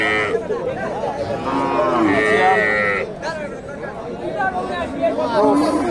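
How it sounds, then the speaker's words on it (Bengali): Cows low repeatedly at a busy cattle market, drawn-out moos rising and falling nearby over a constant murmur of crowd chatter and voices talking. "বকনা আর দেশি গাভী"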